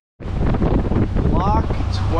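Strong gusty wind buffeting the microphone on a boat at the Erie Canal locks, a loud rushing roar that starts abruptly and continues, with a voice briefly heard in it.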